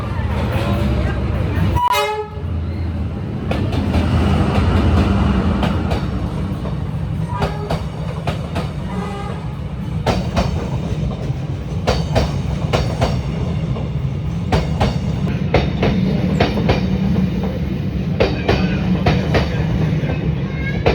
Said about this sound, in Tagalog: Nakatapos lang yung train.